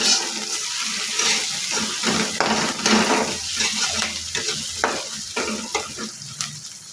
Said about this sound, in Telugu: కారం, ఇవన్నీ వేసుకొని ఒకసారి బాగా కలుపుకోవాలి.